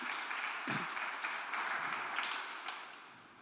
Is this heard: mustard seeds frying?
no